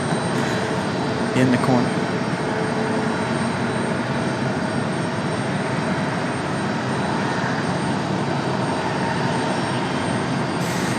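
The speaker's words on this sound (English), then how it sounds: "Aer Lingus arriving from Dublin." An Aer Lingus airliner arriving at RDU from Dublin produces a steady broadband jet rumble, moderately loud and continuous, with a voice briefly speaking over it near the start.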